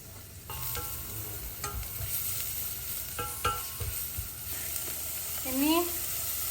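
Onion hisses gently as it fries in butter and olive oil, a quiet steady sizzle with a few utensil knocks and a short squeak near the end, with no talking.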